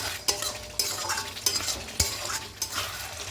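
Chicken cooked in tomato without onion, stirred and sautéed in a pan on the stove. Several sharp scrapes and knocks of a spatula against the pan sound at irregular intervals over a soft steady sizzle, close by.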